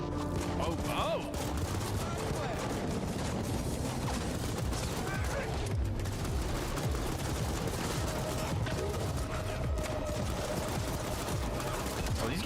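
Dense, rapid gunfire with bursts and blasts in The Ascent, a cyberpunk action shooter; continuous, chaotic firefight clatter and thumps at steady loudness throughout, with no pauses.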